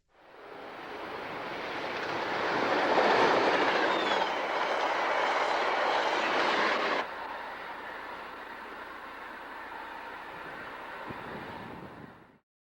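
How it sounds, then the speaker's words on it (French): A Via Rail passenger train rolls through a station, a broad loud rumble and hiss that builds, holds steady, then drops off sharply to a quieter continuing roar before fading out. "Ma famille, on dirait que notre train pour Toronto est là maintenant"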